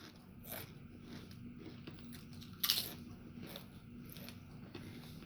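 A Casablanca Four Seasons ceiling fan in antique brass hums faintly while making intermittent crunching, grinding clicks, with one sharper crunch near the middle. There is no talking.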